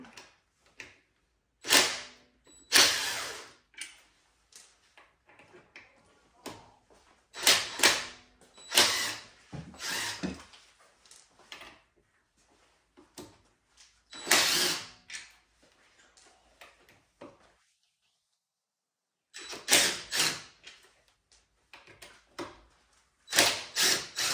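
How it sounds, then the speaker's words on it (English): An impact wrench removes wheel trim bolts on a Ford Bronco in several separate short bursts of mechanical rattling. The bursts are fairly loud and separated by quiet gaps. "I'm going to be using an impact today to remove my bolts"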